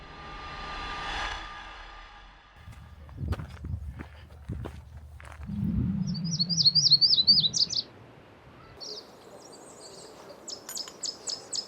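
Warblers, probably Tennessee warblers, singing along a trail near a northern gannet colony: footsteps crunch on the path at first, then high, thin buzzy trills and chip notes ring out in short bursts.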